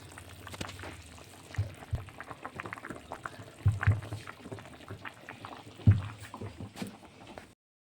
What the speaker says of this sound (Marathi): आता बघा आता उकळी आली मिसळ